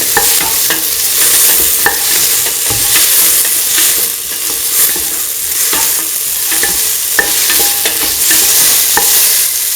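Lentil and ground coconut rice stirred in a hot pan, a loud continuous sizzle with repeated spoon scrapes and taps close up.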